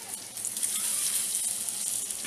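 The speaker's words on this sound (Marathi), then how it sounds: "तेल तापलेलं आहे, आता ही मच्छी मी सोडते यात." Black pomfret fish frying in hot oil gives a steady, close crackling sizzle that runs unbroken for a couple of seconds, with no voices.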